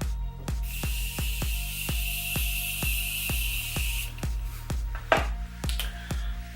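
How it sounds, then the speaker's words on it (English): A steady hiss of makeup setting spray misted onto a face lasts about three and a half seconds, layered over a regular thumping music beat. "If you want to spray your face for the last time, you're set and ready to go"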